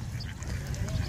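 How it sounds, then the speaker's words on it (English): A duck quacks at a pond during feeding, a brief, faint call over a low rumbling background. "that duck's coming to you"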